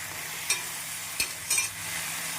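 Omavalli (Indian borage) leaves being sautéed with tomatoes in a pan, a steady low sizzle with a few brief stirring scrapes of the spoon against the pan.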